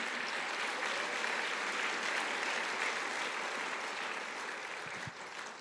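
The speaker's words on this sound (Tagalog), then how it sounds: "Lakasan niyo yung palakpak niyo." A church congregation breaks into loud, sustained applause, many hands clapping together in a thick, even roar that holds steady and then eases slightly near the end, with no one talking over it.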